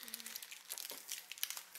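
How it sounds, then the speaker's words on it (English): A plastic bag holding a Tsum Tsum Marvel toy is crinkled and torn open by hand, giving close, dry rustling and crackling that runs without a break. "These bags are a little hard to open up."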